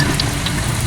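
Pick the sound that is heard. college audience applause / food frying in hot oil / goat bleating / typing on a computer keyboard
food frying in hot oil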